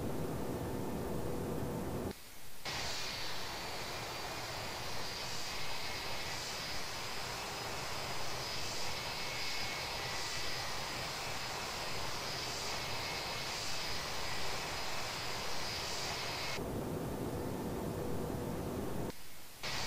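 A light aircraft engine in flight at steady cruise altitude just above the clouds, droning as a continuous loud broadband roar with steady high tones, briefly dipping near the start and again toward the end.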